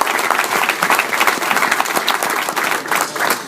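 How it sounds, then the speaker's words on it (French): Audience at a sea forum in El Jadida, Morocco, applauding the governor: loud, dense clapping from a large crowd, sustained and even for the whole stretch. "Je crois qu'on peut l'applaudir."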